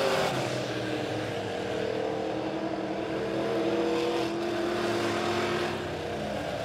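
Midwest modified race cars roar around the Springfield Raceway dirt track, engines droning and rising in pitch as they pass, a steady loud wash of motor noise.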